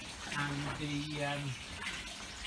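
Water pouring into a large koi pond, a steady rushing gush through pipework that runs continuously, with a voice speaking briefly over it.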